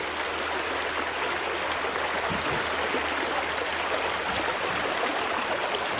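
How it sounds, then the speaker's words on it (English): Rapids on the Santa Fe River rush in a steady broadband wash of flowing water, continuous and fairly even in loudness, with no voices. "Nice rapids."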